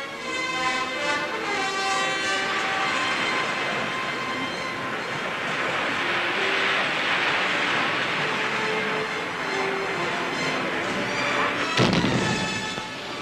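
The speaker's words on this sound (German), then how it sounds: "Wasserbomben auf U-Boote." Depth charges explode against submarines at sea in wartime naval action, a long continuous rumbling roar with a sharp blast burst near the end, loud and alone.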